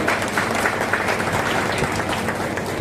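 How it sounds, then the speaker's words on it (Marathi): Loud, dense applause from a crowd at a ceremony honoring meritorious students, sustained evenly for a few seconds with little talk. "मला वाटतं त्यांच्यासाठी एकदा जोरदार टाळ्या झाल्या पाहिजे."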